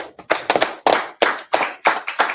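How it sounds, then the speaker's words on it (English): A congregation at a Sabbath service claps in short, uneven bursts of close, sharp hand claps with brief gaps between the groups. "Clap it up for yourselves. Clap it up."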